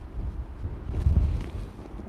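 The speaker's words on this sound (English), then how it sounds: "It's windy as hell." Low, rumbling wind buffeting a microphone, steady throughout with a stronger gust in the middle; no voices.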